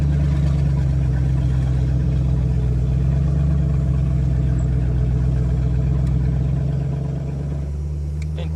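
A 1934 Ford hot rod with a 360 HP Corvette V8 idles with its exhaust open, a deep steady rumbling burble that holds loud and close, easing slightly near the end.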